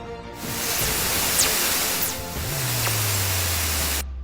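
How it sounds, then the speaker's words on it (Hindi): Fast radio bursts from space converted to sound, heard as a loud continuous hiss of static with faint sweeping tones and a low steady drone entering near the end before it cuts off. "दोस्तों, आइए अब आप लोगों को इन रेडियो बर्स्ट की आवाज सुनाते हैं, जरा गौर से सुनिएगा।"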